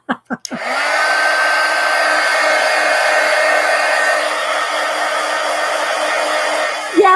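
A hair dryer drying a gold collage art journal page starts after a couple of quick clicks, then blows in a steady loud whir for several seconds before switching off.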